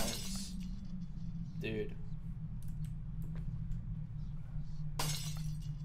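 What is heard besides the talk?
glass breaking in a video game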